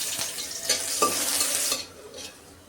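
Onion dropped into hot oil for a Bangladeshi tempering, sizzling steadily with light stirring clinks close by, then the frying noise drops away abruptly partway through.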